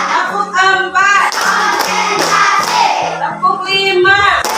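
Elementary school class doing a counted clapping routine: children's voices chant together between bursts of sharp group claps in a short rhythmic pattern, close and lively.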